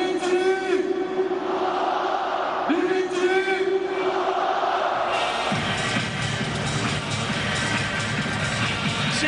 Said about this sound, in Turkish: Taraftarın da tezahüratını zaten duyuyorsunuz